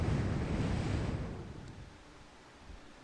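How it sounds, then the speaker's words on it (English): Wind from Hurricane Katrina roaring in the background, a broad rushing blow that is strongest at first and then eases to a fainter steady hiss, with no one talking. "That's Hurricane Katrina in the background. Making all that winding sound. It's the winds."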